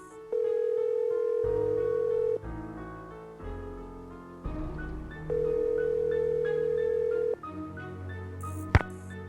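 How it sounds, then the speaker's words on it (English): A telephone call is placed in the Nancy Drew game Message in a Haunted Mansion. Two long ringback tones sound with steady electronic hum and music under them, and a short click comes near the end. "So I'm gonna call Bess"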